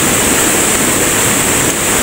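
Strong, fast river current rushing across a mountain river crossing, a loud continuous broadband roar of churning water, steady and close throughout.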